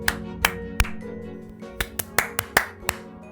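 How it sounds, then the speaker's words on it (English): A series of sharp hand claps, about a dozen crisp hits at uneven intervals, close and loud over a faint background hum. "All right, clap."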